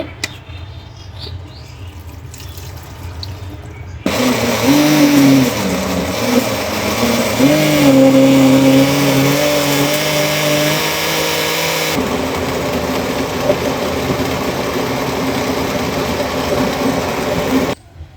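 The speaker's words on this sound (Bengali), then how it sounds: "তো দেখুন আমি একদম ব্লেন্ড করে নিয়েছি" A kitchen blender whirring beetroot with water for healthy juice, starting abruptly after a few quiet seconds and running loud and steady with a slight pitch shift partway through, then stopping sharply.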